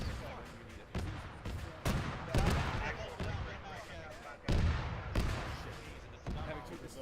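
Gunfire crackles in repeated bursts during a military video game, with heavier booms suggesting mortar impacts and sharp transients spaced irregularly, while players talk over radio chatter.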